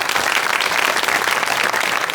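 Sustained audience applause at an Azerbaijani live comedy show, a dense, steady wash of many hands clapping at full loudness throughout with no pauses.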